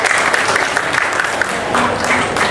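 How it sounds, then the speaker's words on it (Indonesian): Audience applause at an Indonesian ceremony where a certificate is being handed over, with steady dense clapping throughout, fairly loud and close, with faint voices mixed in. "Tepuk tangan untuk Mbak Dian dengan bagian piagamnya."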